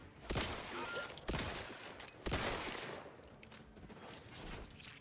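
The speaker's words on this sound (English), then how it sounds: "Air-cooled machine gun." Air-cooled machine gun firing in a video game, three loud bursts of rapid automatic fire about a second apart, each trailing off into echoing reverberation, heard up close without talk.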